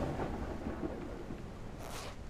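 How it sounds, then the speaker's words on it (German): Thunderstorm ambience from the video game No One Survived: a steady, loud wash of rain and rumbling thunder filling the whole stretch, with a brighter hiss surging near the end. "Ich finde dieses Gewitter, Unwetter eigentlich ziemlich extrem laut."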